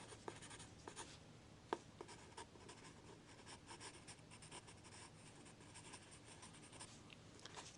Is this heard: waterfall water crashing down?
no